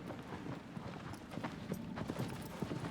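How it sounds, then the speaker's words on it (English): Galloping horse hooves in the video game Shadow of the Colossus, a quick steady clip-clop rhythm, faint and continuous with no voices. "riding my horse through the desert"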